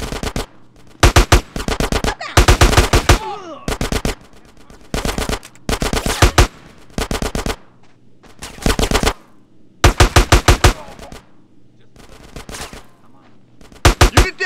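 Automatic gunfire in GTA San Andreas rings out in repeated loud bursts of rapid shots, separated by short pauses, close and dominant.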